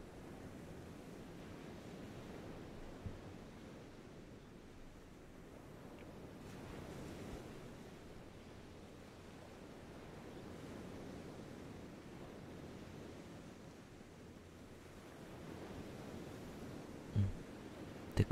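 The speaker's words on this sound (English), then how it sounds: "To relax to the sound of the waves." Ocean waves washing onto a shore make a steady, soft low rumble of surf with a gentle breezy hiss, continuous and even throughout, with a brief faint knock near the end.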